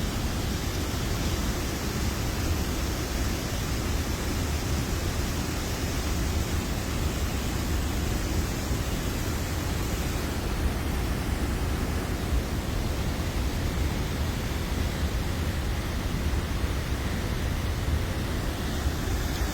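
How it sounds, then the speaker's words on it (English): Constant, loud roar of waterfalls in a natural outdoor setting, a dense unbroken rush of water filling the whole clip without pauses or voices. "That loud noise that you hear in the background is waterfalls."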